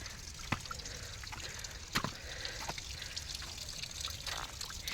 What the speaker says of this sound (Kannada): ಇಲ್ಲಿ ಕೆಳಗೆ ಕಲ್ಲಲ್ಲಿ ನೀರು ಬರ್ತಾ ಉಂಟು ನೋಡಿ